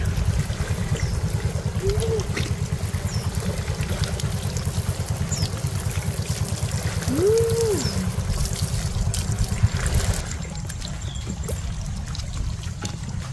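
A homemade shower in a small hut runs in a steady, close spray of falling water, with a voice briefly sounding out twice over the flow.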